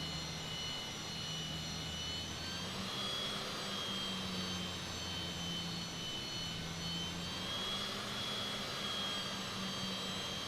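Airliner jet engines roar steadily before takeoff in Microsoft Flight Simulator 2020, a constant loud whine and rumble with a low hum and no talking.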